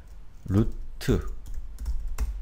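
Computer keyboard typed while entering a command in the Chrome developer tools console: a few sharp, close key clicks, the last one a firmer tap, alongside someone speaking Korean.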